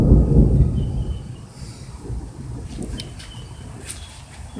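Thunder during a rainstorm: a heavy low rumble swells at the start, then fades into a softer, steady roll with faint rain-like hiss over the remaining seconds. No one speaks.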